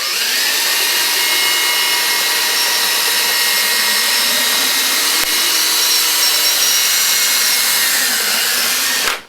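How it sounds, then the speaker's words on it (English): Power drill with a 1/8 inch bit boring a pilot hole through a foam RC plane wing, a loud continuous whirring drone with faint shifting tones, cutting off at the end. "now I started my pilot hole with an 1/8 inch thick bit"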